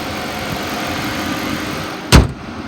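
A 2014 Dodge Charger PPV with a 5.7 liter engine and 80,000 miles idles in a steady, loud, even rumble, broken near the end by one short, heavy thump.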